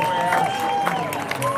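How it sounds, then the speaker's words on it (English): Sustained crowd applause fills Hostage Square as a released hostage emerges, a steady wash of clapping and cheering close around, with some voices mixed in. "You can hear, I'm sure, Anna, the applause around me here in Hostage Square."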